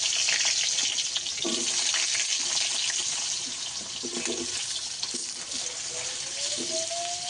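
Cut potatoes dropped into hot oil with black cumin seeds, a steady close hiss of frying with scattered pops and crackles that runs throughout.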